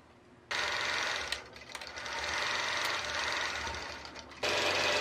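A quilting machine stitches a design across a quilt, a steady loud mechanical whir with rapid needle rhythm that starts abruptly, dips slightly midway and surges again near the end.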